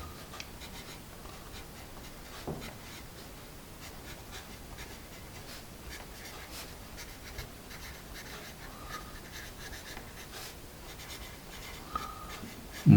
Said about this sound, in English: Let me get some paper and we'll do some writing to try our two here side by side.